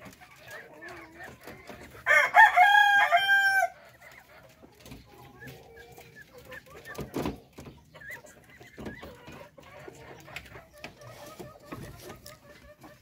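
Native darag chickens on a Philippine farm, one rooster crowing loudly and close for about a second and a half, followed by faint clucking and scattered farmyard noises.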